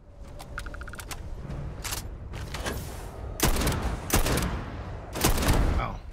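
Gunfire in the space shooter Starfield, several loud bursts of shots popping at irregular intervals over a steady noisy battle background, with a few fainter shots and mechanical clicks early on.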